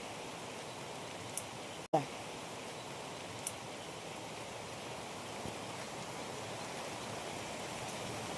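Steady rain pours down in a continuous hiss during Ganeshotsav, with a sharp click partway through and a few faint drips; no one speaks.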